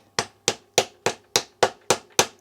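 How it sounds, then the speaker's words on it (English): Eight evenly spaced sharp taps from a plastic hammer pressing a main pivot bearing into a Trek Rail bike frame, each a crisp knock with a quick decay, close up and steady in rhythm. "gently tap that bearing in"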